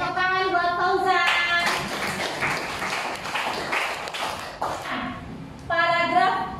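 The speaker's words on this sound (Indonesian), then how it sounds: "Tepuk tangan buat Fauzan." A classroom of Indonesian schoolchildren claps for a classmate named Fauzan, a dense burst of handclaps swelling in the middle and fading, with voices and singing-like tones at the start and end.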